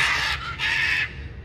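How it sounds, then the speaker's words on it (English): Wild birds call outdoors in Colombia, giving two loud, harsh, squawking bursts in quick succession. Each call is raspy and strident, and a short gap separates the two. "Wow, these are gorgeous birds."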